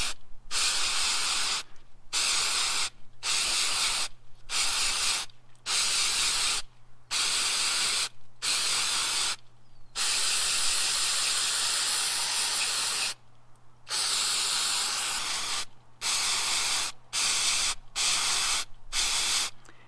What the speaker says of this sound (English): So we're just going to spray it liberally, get the whole thing cleaned off.